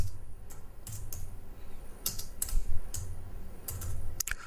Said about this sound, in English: And we can type this trade idea.